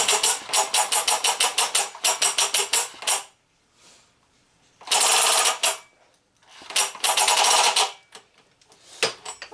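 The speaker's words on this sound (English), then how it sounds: "Well, it has to do with the fact that this is an impact. It's meant to whack fasteners." A Bosch impact driver hammers in rapid rattling bursts while trying to spin a motor over, with several loud stuttering runs broken by brief pauses.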